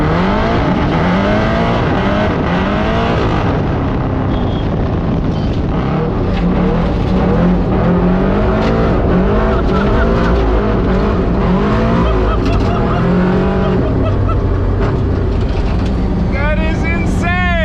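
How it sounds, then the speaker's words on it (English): A lifted, LS V8-swapped Miata hillclimb car roars continuously at high revs, its engine note rising and falling through gear changes with tire squeal near the end, loud and close, with occasional voices under it. "All of the right race car noises."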